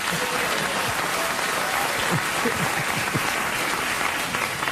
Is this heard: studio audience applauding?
yes